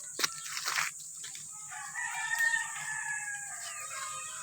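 A rooster crows once, fairly distant, amid chickens on a rural farm, with faint clucking and a steady low hum in the background.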